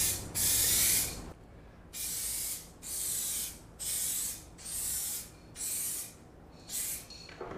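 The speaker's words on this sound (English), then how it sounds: "It actually sprays really well out of this aerosol can, which is surprising." Aerosol spray paint can spraying car paint during spot repair, a long first burst followed by six shorter, evenly spaced hissing bursts with quiet gaps between, close and fairly loud.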